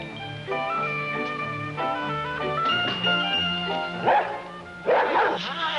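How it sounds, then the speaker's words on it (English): A dog yips and barks repeatedly in short, high-pitched bursts, nearby and fairly loud, with a whine between barks. "Have you been doing all that barking, huh?"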